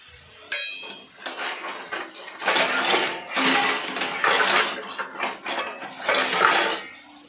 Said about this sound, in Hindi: अब इसको मैं ढक दूँगी